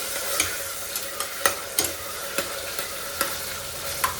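Frying in oil for masala khichdi with spices, a steady faint sizzle broken by regular sharp scrapes and taps of a stirring spoon against the pan, roughly every half second, no voices.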